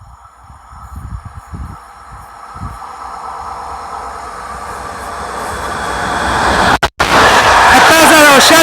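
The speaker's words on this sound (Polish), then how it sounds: "Wjeżdża pociąg TLK Wyczółkowski, relacji Świnoujście Lublin Główny." A TLK passenger train rumbles into Białuń station, growing steadily louder and nearer, with wheel screeching and rattling at the end; a voice speaks early on.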